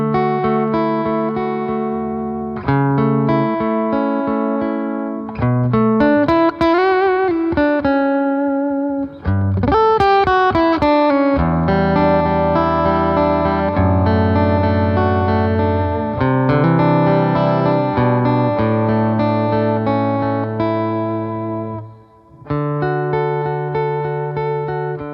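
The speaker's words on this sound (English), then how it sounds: "we're going to kick things off with some piezo acoustic tones on my PRS" Piezo acoustic-style guitar tones from a PRS electric played through a BOSS GT-1000CORE, heard as steady melodic phrases with chords and single-note runs, loud and continuous with no talking.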